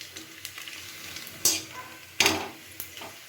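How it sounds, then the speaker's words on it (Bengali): Spiced sabudana papad fries in hot oil with a steady sizzle, broken by a few sharp clinks and scrapes of a utensil against the pan, close up and without talking. "এভাবেই সমস্ত পাঁপড়গুলো আমি ভেজে নিয়ে ফিরে আসছি।"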